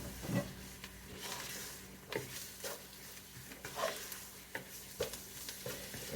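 Kale gumbo ingredients with jerk seasoning cooking in a pot, with a quiet sizzle under repeated spoon scrapes and stirring knocks spaced every second or so, fairly faint with no talk.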